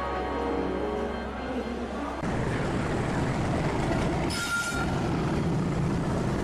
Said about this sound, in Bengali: শিহরণ জায়গায় ইঞ্জিন ব্রেকের ওই মেটালিক শব্দটা। চলে এসেছে আমার ট্রেন কামরূপ এক্সপ্রেস।